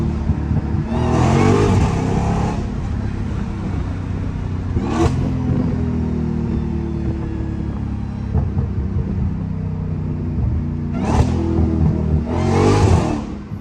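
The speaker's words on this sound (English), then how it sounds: "But this car really loud though, just to have a mid muffler delete." A Dodge Hellcat with a mid-muffler delete rumbles loudly at close range, its engine droning steadily with a few sharp revving surges breaking through near the start and end.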